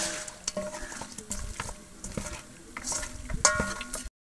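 Onions frying in oil for biryani berista: a crackling sizzle under repeated stirring and scraping, with some pan and utensil clatter, fairly close and continuous before cutting out at the end.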